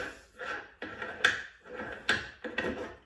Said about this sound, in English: So we unscrew the top.